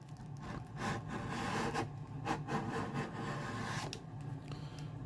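Coarse 80 grit sandpaper rubs over Tasmanian blackheart sassafras on an OM acoustic guitar build, a soft, close, continuous scratching with uneven strokes and a few sharper scrapes.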